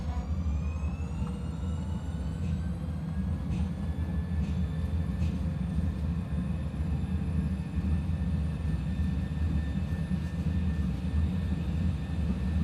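A Piper Saratoga's engine held at takeoff throttle in a flight simulator, a steady droning hum with faint rising tones throughout and no talk.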